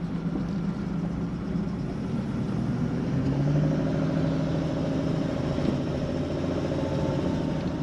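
A 1968 Pontiac Firebird Sprint with a rare overhead-cam straight-six engine running steadily, a constant close, low rumbling drone with no breaks and no talk.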